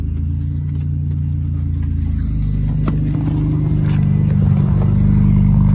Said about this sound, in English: So the car is on now,